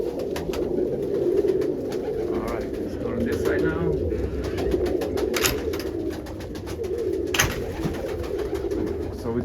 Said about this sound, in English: The cocks are on that side, so they coo to the hens.